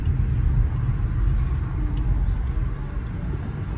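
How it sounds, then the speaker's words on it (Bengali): Cars sit in a traffic jam in Ottawa, Canada, giving off a steady low engine rumble close by with only faint variation. "এই হলো কানাডার জ্যাম। কানাডাতেও জ্যাম হয়।"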